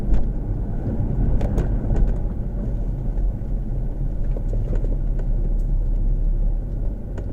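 A 2006 Volvo V70R drives at slow speed, heard from inside as a steady low engine and road rumble. Faint ticks and knocks run through it.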